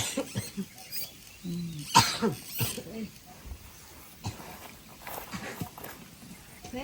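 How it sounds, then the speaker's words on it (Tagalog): A single harsh cough bursts out near the mic amid quiet room noise, with faint rustling and soft voices around it. "Masamot ng ubo."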